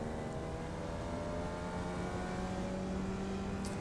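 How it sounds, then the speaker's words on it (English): Formula Vee race car in the iRacing sim, its engine revving out in third gear at Winton Motor Raceway; a steady, sustained buzzing drone with harmonics climbing throughout, heard alone with no talk. "Now I rev it out in 3rd gear here."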